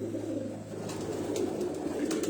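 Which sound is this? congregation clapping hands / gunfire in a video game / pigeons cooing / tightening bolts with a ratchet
pigeons cooing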